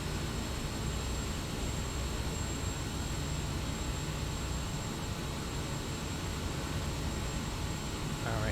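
The steady, droning turboprop engine of a Kodiak 100 in Microsoft Flight Simulator holds a constant broadband roar at reduced throttle during approach, loud and unbroken for the whole stretch with no voices.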